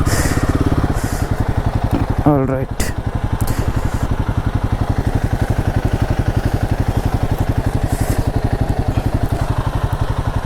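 A motorcycle engine idles and thumps steadily at close range while the bike is being parked, a continuous rhythmic putter with a brief clatter partway through and a short spoken remark over it.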